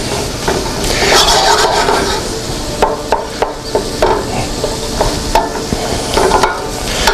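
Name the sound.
stirring meat frying in a wide pan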